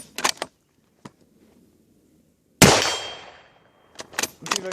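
A rifle shot fired from a prone position during winter camping: one loud, sharp blast that rings and decays over about a second, with faint clicks and handling noises before and after.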